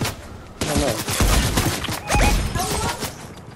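Gunfire in the Fortnite video game, a dense burst of rapid shots with heavy thumping impacts, loud and close, mixed with other game noise and a brief voice.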